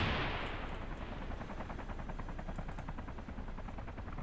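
Gunfire in the video game DayZ OverPoch, a burst of rapid automatic shots followed by a steady rattling volley from somewhere off at mid distance, with a whooshing rumble underneath.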